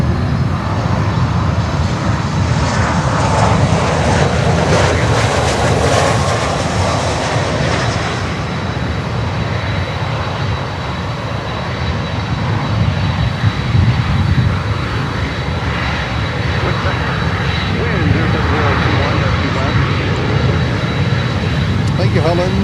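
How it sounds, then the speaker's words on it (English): An American Airlines Boeing 737 MAX 8 jet airliner roars steadily at Miami airport, a loud continuous rumble with a voice talking over it. "American Airlines 737 MAX 8."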